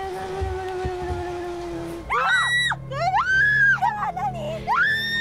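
Women's high, drawn-out screams rise and fall in several loud bursts during a horror game reaction, following a steady droning tone.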